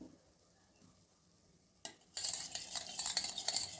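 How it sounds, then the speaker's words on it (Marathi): Yogurt is whisked in a bowl after a near-silent start, a spoon or whisk suddenly breaking into quick, close scraping and clattering strokes that continue to the end. "दही चांगलं असं हलवून घ्यायचं आहे छानपैकी."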